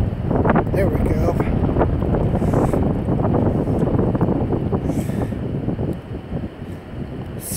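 Strong wind gusting over the James River in winter buffets the microphone with a loud, continuous low rumble and roar, easing slightly toward the end.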